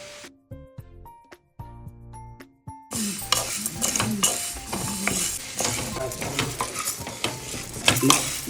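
Spices and dried red chillies fry and get stirred in a pan for a garlic-free masala karam. Sparse clinks come first, then a loud, continuous sizzle with scraping stirs and utensil knocks against the pan.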